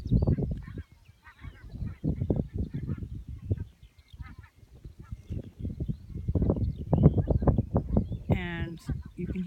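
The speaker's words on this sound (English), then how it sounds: "I don't know if you can see the V of geese up in the air." Geese flying in a V formation honk over open country at Crook o' Baldoon near the Solway Firth. The calls are faint and scattered, and a person talks over them almost the whole time.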